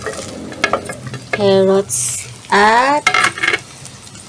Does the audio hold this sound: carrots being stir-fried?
yes